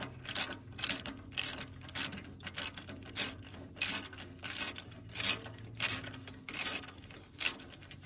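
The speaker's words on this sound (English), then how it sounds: "I switched over to a regular ratchet wrench to make things a little bit easier" A regular ratchet wrench turns a freed-up bolt, rapid metallic clicks coming in short rhythmic bursts about every half second, close and distinct, with no talking.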